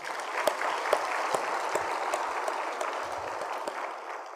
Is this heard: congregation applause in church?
yes